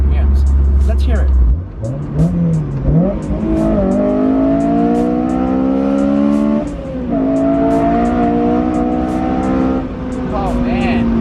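A Honda S2000 AP1 engine revs loudly and climbs toward its 9,000 RPM redline in long, rising sweeps, holding high between brief dips, with people talking faintly underneath.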